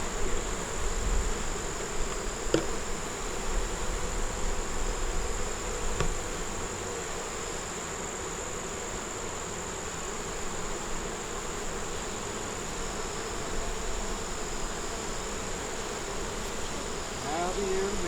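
Agitated honey bees buzz in a dense, steady drone around a hive being tended for beetles, close and continuous for the whole stretch with faint scattered clicks and no clear talk.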